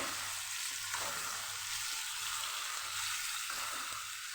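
Potato pieces with turmeric fry in a pan, giving a steady, close hiss of sizzling oil with soft, periodic scrapes of stirring and no talking.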